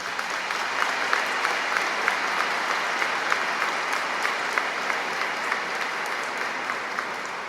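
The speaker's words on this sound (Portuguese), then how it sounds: "Nós te acolhemos desde já com uma calorosa salva de palmas" A cathedral audience gives a warm round of applause to welcome a guest lecturer during a family-week talk at the Catedral de Guaxupé. Even, sustained clapping rings out through the resonant space with no voices over it.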